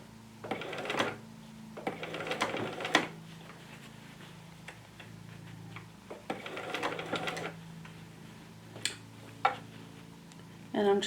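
Sewing machine running a long basting stitch on a jacket, in several short bursts of rapid mechanical ticking separated by pauses and scattered clicks, close by.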